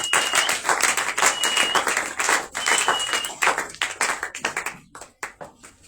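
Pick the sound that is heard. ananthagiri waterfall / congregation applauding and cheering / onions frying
congregation applauding and cheering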